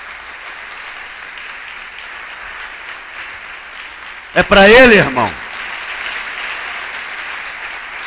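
A church congregation claps during a Sunday morning service, a steady low wash of applause that continues under a man's loud spoken interjection midway.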